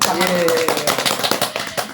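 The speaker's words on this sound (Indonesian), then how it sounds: "Tepuk tangan dulu dong." A talk-show audience at a discussion on socialism and Marxism bursts into a short round of hand clapping, fast irregular claps close by, mixed with voices speaking over it.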